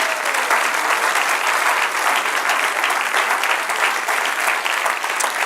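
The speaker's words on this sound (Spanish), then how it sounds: "Dale un aplauso al Señor." A church congregation claps in loud, sustained applause, a dense, even wash of clapping that continues steadily without a break.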